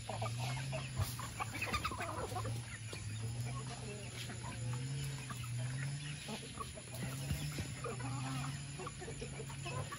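Hens in a farm coop clucking repeatedly at close range, a steady run of low, throaty clucks over a busy background, with a faint voice briefly audible.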